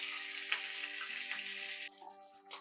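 Curry leaves are rinsed under running water, with a steady tap stream splashing that thins out near the end, fairly faint and close.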